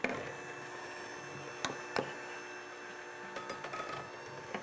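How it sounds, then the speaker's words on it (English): Taco meat stirred in a hot pan for homemade tacos gives a steady, faint sizzle broken by a few sharp spoon clicks and scrapes against the pan, with no talking. "All I'm doing is stirring the taco meat"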